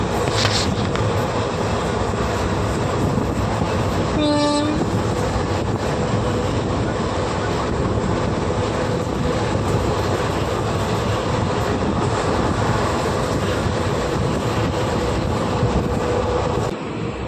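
A train arriving at Thrissur station rumbles steadily on the rails with continuous low mechanical noise, and a brief horn-like tone sounds once early on.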